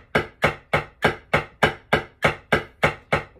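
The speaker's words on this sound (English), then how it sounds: "So a paradiddle is a right, left, right, and then a left" Paradiddle sticking on a drum practice pad: eleven crisp, evenly spaced stick strokes in a steady rhythm, close and fairly loud, with no voices.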